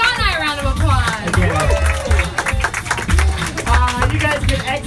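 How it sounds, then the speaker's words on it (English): Scattered clapping and cheering from riders after a ride, with sharp claps popping beneath a loud voice talking over them nearly the whole time. "Give the driver a round of applause. Give the ride a round of applause."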